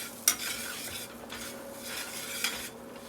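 Flour cooking in melted margarine in a pan, stirred with a utensil: a soft steady sizzle with a couple of sharp scrapes and taps against the pan, close and fairly quiet.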